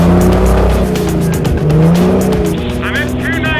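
Loud race car lapping a track at a 24 Hours of Lemons endurance race, engine droning and shifting pitch with brief tire squeal and passing traffic, close and continuous.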